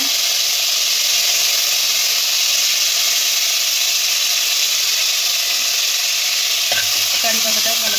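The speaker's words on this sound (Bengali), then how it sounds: "এবার এতে 1 চামচ মতো সরষে দিয়ে নিলাম। সরষেটা একটু ভাজা হবে" Mustard seeds frying in hot white oil in a wok, a steady loud sizzle and hiss running throughout, with a few stirring clinks near the end.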